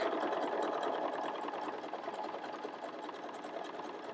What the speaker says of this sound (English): I'm going to keep coiling and stitching, make sure my presser foot is down